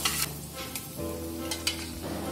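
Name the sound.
curry leaves and turmeric being sautéed and stirred in a pan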